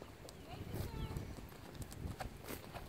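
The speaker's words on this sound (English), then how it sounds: "This horse, when he jumps like straight up in the air." A jumping horse sends out faint, scattered hoof thuds outdoors while people talk over them at low volume.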